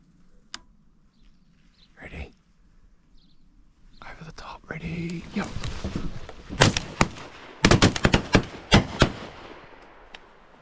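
Shotgun blasts ring out at ducks during a duck hunt outdoors, a quick cluster of sharp, loud cracks near the end, preceded by quiet whispering and movement.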